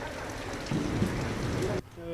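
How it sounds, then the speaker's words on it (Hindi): Rain falls steadily in Srinagar as a broad hiss, with a voice talking over it in the middle. The sound cuts off abruptly near the end. "ये तो तकरीबन बहुत टाइम के बाद यहाँ पे बारिश भी पड़ी"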